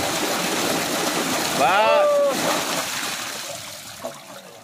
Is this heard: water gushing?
yes